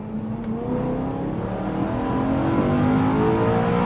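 A tuned BMW M3 E92 with a DCT gearbox accelerates hard, its engine note climbing steadily with quick gear changes, loud and continuous from inside the car.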